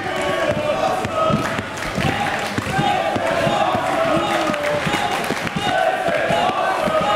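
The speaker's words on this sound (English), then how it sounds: "This crowd showing their appreciation for this match." A large wrestling crowd roars and cheers continuously, a dense wall of voices filling an arena, with scattered shouts rising above the steady din.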